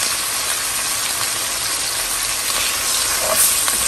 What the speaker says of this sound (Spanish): Vamos a dejarlo que se fríe.